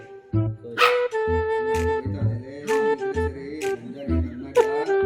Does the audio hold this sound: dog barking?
yes